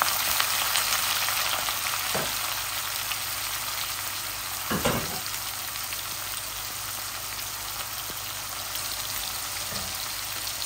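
Onions fry with chicken and garlic in a pan, giving a steady, dense sizzle with a few louder crackles and spits.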